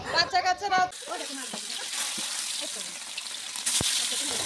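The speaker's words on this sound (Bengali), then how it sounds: "মাছ ভাজা শুরু হয়ে গেছে" Fish frying in oil at an evening village picnic hisses softly and continuously after a brief burst of voices at the start.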